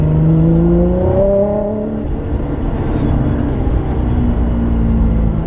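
A race car engine accelerates hard on a track, its loud, close drone rising steadily in pitch through the gears before settling into a sustained roar.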